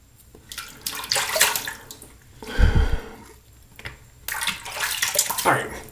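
Running water rinses soft Italian shave soap from a face during a double-edge razor shave, a steady broadband splash with a louder gush in the middle, heard close and alone.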